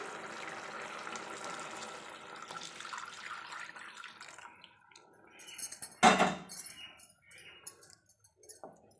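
Boiled milk poured into cooked sago in a pan for Tamil javvarisi payasam, a steady liquid pour and splash lasting several seconds, then a sharp clink of a vessel and a few quieter clatters near the end.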